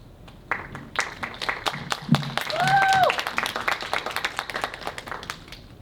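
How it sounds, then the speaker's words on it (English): Sparse, uneven clapping from a small audience as candidates for a student election debate walk onto the stage, with distinct individual claps and a brief murmur of voices partway through. "please give our candidates for internal vice president a warm round of applause as they enter the stage"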